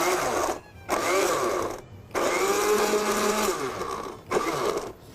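A kitchen blender whirs loudly in three bursts with short silent gaps between them, and the motor pitch shifts as the contents churn.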